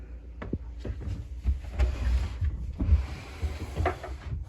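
A privacy door on the owner's side of a catamaran being worked, giving several close clicks, knocks and slides over about four seconds against a low hum.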